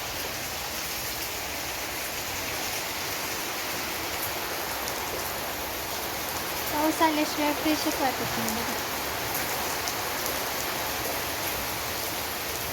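Heavy rain pours down in a loud, unbroken roar of water, and a voice speaks briefly partway through before the downpour carries on alone.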